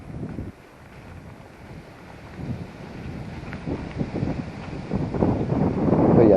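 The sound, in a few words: strong wind blowing on microphone outdoors in garden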